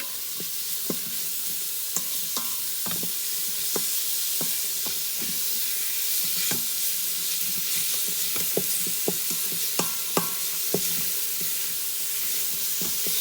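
Garlic sizzles and fries in an Instant Pot, a steady broadband hiss running throughout, broken by scattered sharp crackles and pops, close and continuous with no talking.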